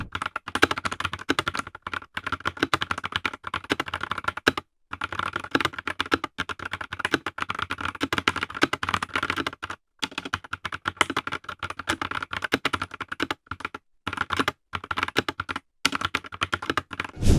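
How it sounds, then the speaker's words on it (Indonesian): Steady rapid clatter of a Zifriend ZA63 mechanical keyboard being typed, close and crisp, with brief pauses between bursts of keystrokes. "buat kalian yang pengen dengar hasil suara typing testnya"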